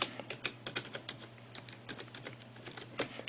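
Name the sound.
typing on a computer keyboard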